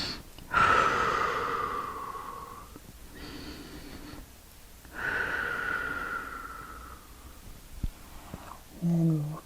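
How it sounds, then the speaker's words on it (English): A person takes two slow, deep breaths while resting in a child's pose during a children's yoga session. Each long inhale and exhale is close and breathy, with quiet gaps between them. "take 2 deep breaths"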